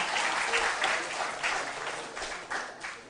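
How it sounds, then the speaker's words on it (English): A school quiz audience applauds contestants on stage, a dense burst of clapping that swells and fades in waves for several seconds, loud and unbroken by speech. "A round of applause for this round and our stars on stage."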